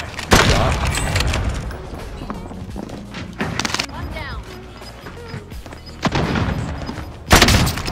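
Sharp sniper rifle shots in a video game sniper custom match, two loud booming reports near the start and end with other gunfire and game sounds between, under excited players talking.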